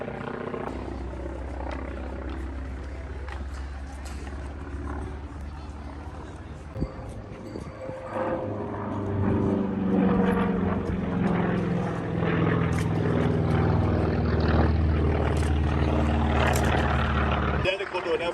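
A WWII-era Wildcat propeller fighter drones steadily through a tight 360-degree turn at an air show in Virginia Beach, its engine note swelling louder in the second half with a continuous low rumble.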